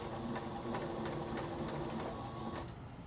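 A sewing machine stitches a fabric backpack, its needle whirring in a steady, fast mechanical chatter up close that continues almost unbroken before easing off at the end, with no talking.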